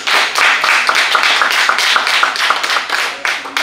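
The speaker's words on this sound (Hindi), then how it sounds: "आप लोगों की तालियों की जो गड़गड़ाहट है" Dense audience applause from a crowd at an event, many hands clapping steadily and loudly for the whole stretch with no talk over it.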